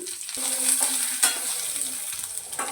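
Onion drops into hot oil already crackling with mustard seeds and curry leaves, a bright close sizzle with scraping stir strokes and a pan knock, steady throughout.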